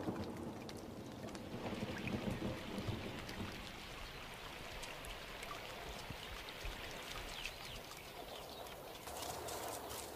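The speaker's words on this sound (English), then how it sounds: "A late summer storm breaks Kalamaili's season of drought." A late summer storm breaking a drought on the Kalamaili steppe, with dense steady rain hiss and rushing water holding a constant loud wash throughout and no voices.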